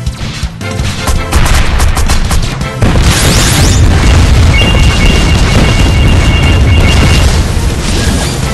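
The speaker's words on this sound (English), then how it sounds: "First missile." Missile blasts in a flight combat game boom loud and continuous, a dense roar of crashing explosions and rumble that swells after a few seconds and holds steady.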